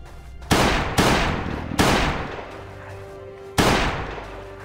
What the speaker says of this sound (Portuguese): Essa pistola aqui deve aguentar uns dois tiros só.